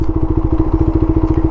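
QJMotor Race 250 single-cylinder motorcycle idling up close, a steady deep thumping pulse with an even, rapid beat and no talk.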